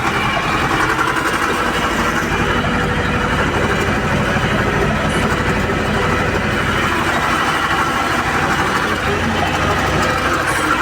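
A T-25 tractor runs with a PTO-driven 400 L sprayer working soy and wheat fields. Its loud, close engine drone holds an even, continuous rumble the whole time.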